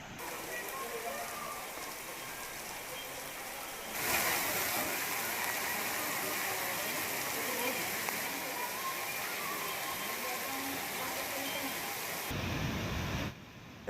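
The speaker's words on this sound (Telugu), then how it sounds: "ఇంకా కుండపోతగా వర్షం కురుస్తూనే ఉంది" Heavy monsoon rain pours in a dense, steady hiss throughout in Eluru district, Andhra Pradesh, with faint voices beneath the downpour.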